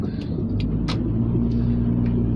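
A Honda S-MX with 187,000 on the clock and a troublesome gearbox drives in snow, its engine and drivetrain droning as a steady low rumble with a few faint clicks.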